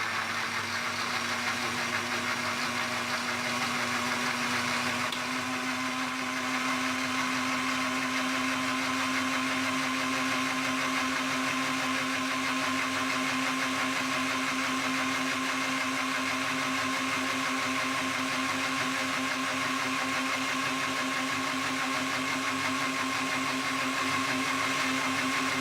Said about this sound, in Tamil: இப்போ நம்ம எல்லாத்தையும் பிளெண்ட் பண்ணிட்டோம்.